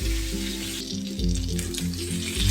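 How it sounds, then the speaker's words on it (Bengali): Pointed gourd fries with turmeric in a pan, a close, steady sizzle layered over a low humming drone, with no voices. "পটলটা ভাজা হয়ে এসছে"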